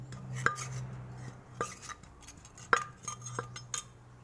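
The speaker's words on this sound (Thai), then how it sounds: "ทีนี้เราก็เทลงผสมกันเลยพี่น้องค่ะ ทั้งงาทั้ง ถั่วนะคะ ให้เข้าเข้ากัน" Ground sesame and peanuts being poured and mixed for a Thai bamboo shoot salad, heard as sparse, sharp clinks of a utensil against a bowl over a quiet background. Several distinct taps come at irregular intervals.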